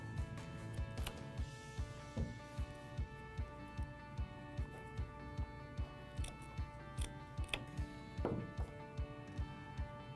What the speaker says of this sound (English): Now pull your aramid aside and trim it using shears.